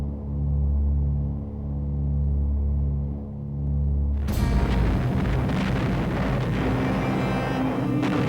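Heavy bombs fall on the monastery at Monte Cassino from a large formation of medium bombers, with a droning engine hum that suddenly gives way to a loud, sustained roar of blasts and rumbling destruction.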